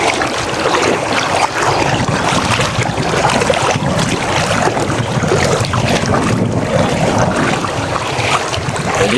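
Strong, steady wind blowing at a lakeside campsite, a loud, constant roar and buffeting across the microphone with no pauses.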